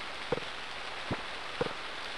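Rain falling in the farming video game Harvest Moon: Friends of Mineral Town, a soft steady hiss with a few faint tapping drops, heard alone without talk.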